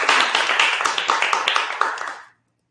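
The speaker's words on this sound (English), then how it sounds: "an applause" Brief burst of clapping from a small audience after a talk on AI and gender, dense hand claps close and fairly loud for about two seconds, then stopping abruptly.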